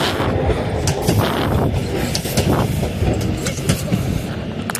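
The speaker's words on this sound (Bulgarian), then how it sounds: "И сега ще видим трамвай." A tram passes close by on the rails beside an abandoned house, a loud continuous rolling rumble with repeated metallic clacks and squeals throughout.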